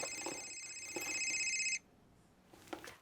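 A telephone bell rings loudly and steadily in a home for under two seconds, then cuts off, leaving faint room noise and a small knock.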